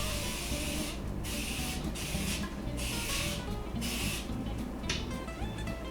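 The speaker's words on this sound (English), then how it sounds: "we're going to spray a 9x9 cake pan with cooking spray" Cooking spray is sprayed into a 9x9 cake pan in several short bursts of hiss, with brief pauses between them, over a low kitchen background.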